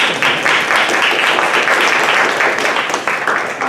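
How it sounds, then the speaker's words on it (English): A library audience at an event with the NYPL and the Graduate Center applauds in a dense, steady wash of clapping that holds loud and close throughout. "Big applause, big applause, big applause"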